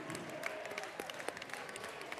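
Crowd applause at a pre-season friendly football match between Gateshead FC and South Shields as a substituted player leaves the pitch, a steady ripple of clapping from the stands throughout.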